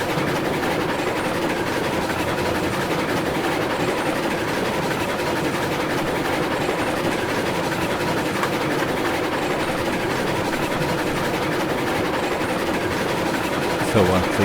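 Rolling train from the Railroads Online game, a maintenance-of-way consist entering a rail yard, with a steady dense rumble and rail noise that stays even throughout, with no voices.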